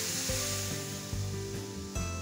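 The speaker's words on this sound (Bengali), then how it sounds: "আমি দুধ ঢেলে দিচ্ছি" A litre of milk is poured into a hot pan of sautéed pasta, making a brief sizzle and a low gurgling splash with a few soft knocks. Nearby sounds stay faint.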